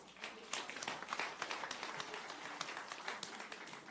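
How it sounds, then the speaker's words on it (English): A town hall audience claps together, a fairly faint, even patter of many hands that keeps going without a break, heard from some distance in a large room. "Give yourselves a round of applause."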